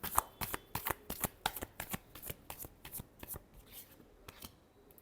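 Tarot cards are shuffled close up in a quick run of crisp riffling slaps, about a dozen sharp bursts over five seconds, with no voice.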